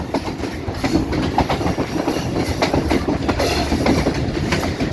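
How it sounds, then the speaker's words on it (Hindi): Rehman Baba Express passenger train rolling through hilly country toward a tunnel, heard from on board as a loud, steady rumble with rhythmic clickety-clack of wheels on rails and no talk. "अभी साथ ही सुरंग में ट्रेन जाने लगी है जी।"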